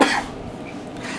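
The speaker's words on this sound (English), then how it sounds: "pretty much a bit of a cough as we speak" One short, loud, rough cough at close range, fading quickly into quiet room tone.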